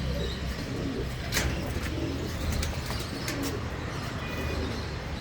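Soft pigeon coos in Pathankot, Punjab, over a steady low background hum, with a few faint chirps and light rustling nearby.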